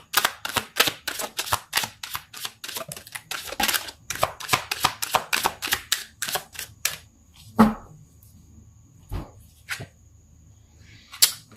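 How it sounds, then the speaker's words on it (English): Rapid series of crisp tarot card snaps and flicks, fast and close, then a few sparser slaps and taps toward the end; no talking. "going to pull some more cards"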